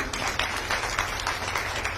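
A crowd claps at a political speech event, a dense, steady patter of many hands close by, with no voices over it.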